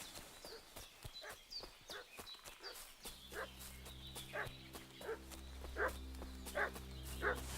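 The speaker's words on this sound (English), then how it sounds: "What's that dog making such a fuss about?" A dog barking and fussing in Kingdom Come: Deliverance 2, a series of repeated yelps and barks at moderate distance over horse hooves clip-clopping, growing more insistent toward the end.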